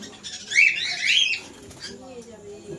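A lutino pair of pet birds in a seller's cage, chirping loudly and shrilly in two short close bursts, with a brief wing flutter and someone talking softly afterward.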